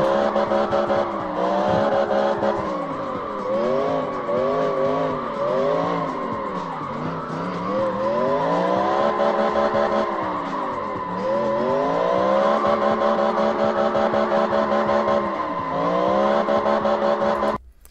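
An LS V8-swapped Nissan S15 in the racing game CarX Street rises and falls through repeated revs and shifts while drifting, tires squealing as it slides, loud and continuous throughout.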